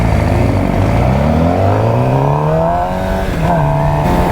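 A BMW car accelerates hard during a road race, its engine note climbing loudly through the revs with rising tones, a brief dip as a gear changes, then climbing again, close and dominant.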